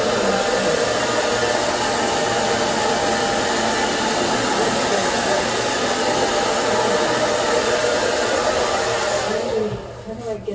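A heat gun blows a steady, loud hot-air roar while warming VEELIKE waterproof removable contact paper on a kitchen cabinet, running continuously before cutting off near the end.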